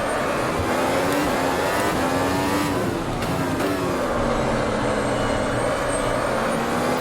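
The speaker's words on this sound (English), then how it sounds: "And now we're going down again to the second gear." A Formula 1 car in the racing game Automobilista, F1 2019 mod, at Circuit of the Americas in Austin, revs loudly with a high engine note that drops and climbs through downshifts, close and continuous.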